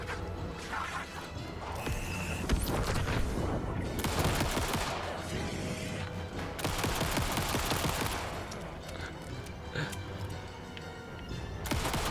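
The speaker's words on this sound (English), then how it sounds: "The rate of fire is ridiculous. It's like a miniature machine gun." Rapid gunfire from a fast-firing weapon in Alan Wake 2, dense bursts of shots rattling like a miniature machine gun, loud and close, with crashes and mechanical clatter between the volleys.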